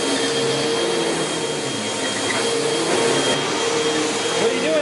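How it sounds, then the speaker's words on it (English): A household vacuum cleaner runs steadily nearby, a continuous whooshing whine with a slight tonal hum that persists throughout. "So, gonna vacuum that up really quick, have John help me."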